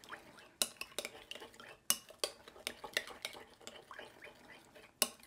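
Utensils toss and mix cucumber salad in a bowl, giving quick, irregular clinks and scrapes close by, fairly quiet, with no talking.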